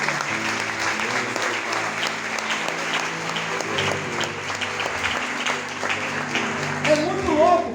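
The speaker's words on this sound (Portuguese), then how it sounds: "Você pode dar um aplauso de Glória a Jesus?" Church congregation claps in loud, steady applause for several seconds, with a voice speaking over the clapping and a brief rise near the end.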